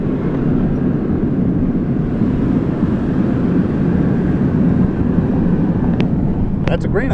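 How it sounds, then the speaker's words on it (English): A grain elevator ventilation fan pulling air through stored grain, heard from a passing car as a steady, loud broadband roar with low rumble, continuous throughout, with a couple of brief clicks near the end. "it actually is a fan pulling air from inside of the grain and trying to keep air circulating"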